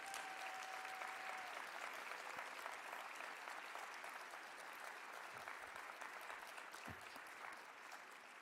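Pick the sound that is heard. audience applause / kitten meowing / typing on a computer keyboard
audience applause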